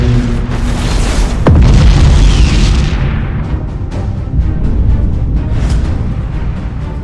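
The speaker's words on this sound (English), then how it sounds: "Enemy defense platform destroyed!" A huge boom as an enemy defense platform explodes in the space strategy game Battlefleet Gothic Armada 2, a sharp blast swelling into a loud rumbling roar that slowly fades under a continuous din of distant fire.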